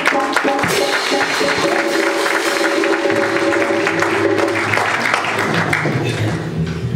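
A church congregation applauding at the official launch of a Paris church, dense and continuous clapping filling the room, with crowd voices and sustained tones mixed underneath.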